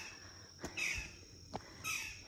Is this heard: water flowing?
no